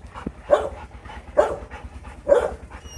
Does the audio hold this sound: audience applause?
no